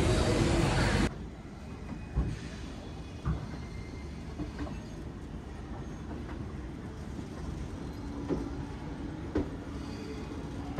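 The Kalka Mail passenger train runs steadily, a continuous rumbling roll with occasional wheel clicks and knocks, heard from inside over several seconds after a brief louder burst at the start.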